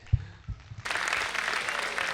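An audience at a school annual function bursts into applause after a couple of soft thumps, the clapping holding steady and dense for the rest of the moment.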